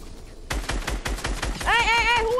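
Rapid automatic gunfire in a video game, a steady string of sharp, evenly spaced shots that is loud and close. A voice begins speaking over the last stretch of firing.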